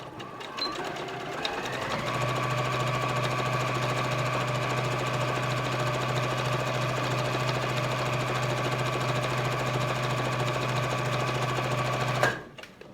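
A sewing machine runs steadily at a wide zigzag setting, stitching gloves, starting up after a brief pause and holding a loud, even whir for about ten seconds before stopping abruptly.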